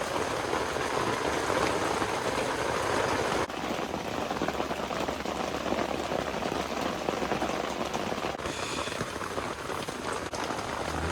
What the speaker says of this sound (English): It has been raining like this for 4 hours straight.